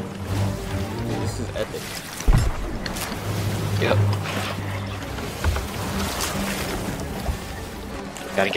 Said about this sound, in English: I'm gonna try driving us through this.